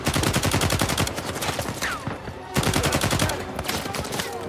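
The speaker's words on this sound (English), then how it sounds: "A lot of recoil on that gun." Rapid automatic gunfire rings out in Uncharted 4, two dense bursts of close, loud shots split by a short pause, with the game's ambient noise running underneath.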